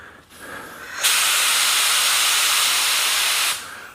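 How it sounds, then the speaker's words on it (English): A 3M Accuspray paint gun sprays base coat in one sustained, loud, close hiss lasting about two and a half seconds, preceded by a softer airy lead-in and cutting off sharply. "So let's go ahead and spray the base on and see how this gun sprays."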